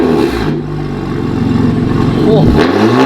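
A BMW M3 fitted with a Valvetronic exhaust idles loudly nearby with a deep burbling throb, swelling slightly in a brief rev, while someone speaks over it.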